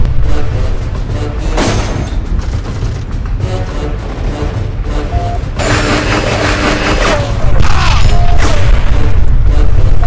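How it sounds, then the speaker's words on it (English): Gunfire and explosions in the game Darkest of Days, loud dense bursts of shots and booming blasts layered over a heavy low rumble, continuous and close throughout. "We're under fire."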